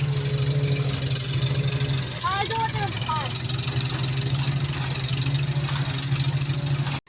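A tractor engine, part of a threshing machine setup, runs at a steady, droning idle close by while a person talks over it.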